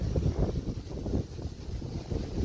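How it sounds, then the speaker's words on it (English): Strong wind at a Jamaica Beach RV resort near the bay buffeting the microphone in low, uneven gusts that rumble and surge across the short stretch. "Extremely windy"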